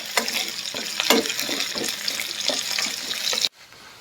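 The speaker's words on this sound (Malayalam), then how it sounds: "ഇഞ്ചി ചെറുതായിട്ടൊന്ന് മൂത്ത് വരുമ്പം നമുക്ക് ഈ പച്ചമുളക് ചേർത്ത് കൊടുക്കാം. ഇനി എല്ലാം കൂടെ ഒന്ന് വഴറ്റിയെടുക്കാം." Ginger and green chillies sautéing in a pan for dry shrimp pickle, a continuous close sizzle and crackle with scraping stirs, cutting off abruptly near the end to near silence.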